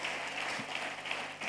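A church congregation applauds at a worship service, a soft, steady wash of clapping that sounds somewhat distant and stays even throughout.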